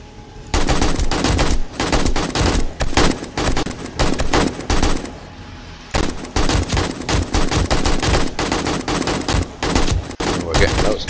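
Rapid automatic gunfire rattles in dense bursts during a horde night in the 7 Days to Die video game, loud and close, with a short lull midway before the firing resumes.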